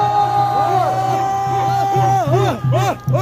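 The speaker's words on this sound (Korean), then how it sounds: "큰 박수로 맞이해 주시기 바랍니다." A crowd at a student political rally cheers and whoops loudly, voices rising and falling in overlapping yells as the next speaker is welcomed.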